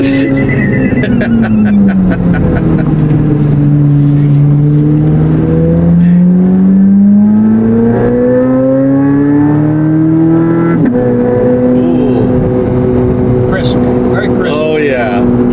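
Chevrolet Corvette C8 Z06 with a brand-new exhaust revving loudly and close, the engine note sweeping down and back up through long throttle blips, with a sharp jump in pitch partway and a pop near the end.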